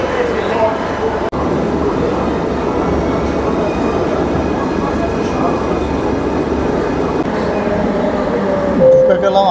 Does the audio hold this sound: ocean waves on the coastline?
no